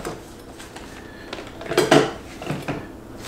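A Stanley cooking pot and camp stove burner clink and clatter as they are handled, with light metallic knocks building to a louder cluster of rattles, then a few scattered taps, close by and without talk.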